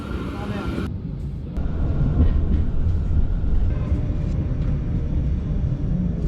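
A tram in Frankfurt, a steady low rumble of the moving car with rolling rail noise throughout, loud and close, while a person talks over it.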